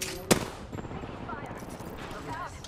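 Apex Legends gunfire: one sharp, loud shot near the start followed by fainter scattered fire, with in-game voices talking underneath.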